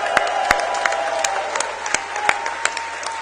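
A crowd applauds and cheers at the Eredivisie final presentation, dense continuous clapping with sharp individual claps popping out and a few faint voices underneath, fairly close and sustained.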